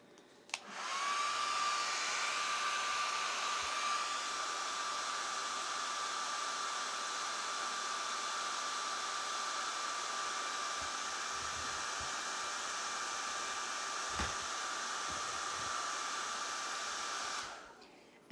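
A hair dryer blows steadily at close range for about sixteen seconds, drying a painted theatre rendering, starting abruptly and cutting off at the end with a faint tonal whine over the rushing air.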